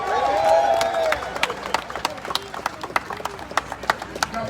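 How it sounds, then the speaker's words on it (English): A rally audience claps and cheers at first, and the sound thins into scattered individual claps that continue for several seconds, with crowd murmur underneath. "Give yourselves a round of applause."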